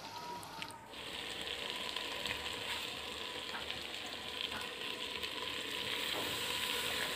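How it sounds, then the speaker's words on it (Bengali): Chicken being fried kosha-style in a pan over a clay wood-fired stove, a steady, close sizzle of frying that runs without a break and without voices. "মাংসটা বেশ ভালোই কষা হয়ে গেছে, উনুনটাও ভালো জ্বলছে"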